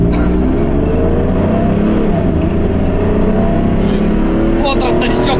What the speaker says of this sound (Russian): А теперь газ в пол нажимаю.